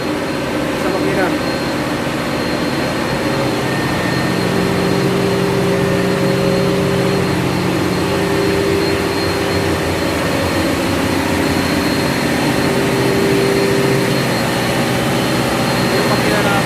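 Loud, constant drone of the main engine in the engine room of the cargo ship M/V Helge, a dense roaring hum with steady tonal whine, while someone speaks faintly beneath the noise.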